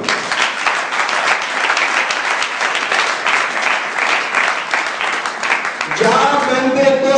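A church congregation at a live Pentecost service breaks into loud, sustained applause, dense and close with many hands clapping together, and a voice briefly rises over the claps near the end.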